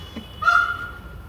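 A peacock gives a single loud, nasal, honking call lasting about half a second, close by, with quiet surroundings before and after and no talk.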